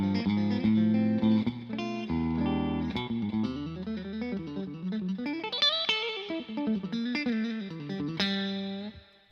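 A PRS SE electric guitar from 2017 on its middle-position humbucker split into single-coil mode, playing a clean, bright melodic run with chords and fast note flurries, loud and alone with no talk.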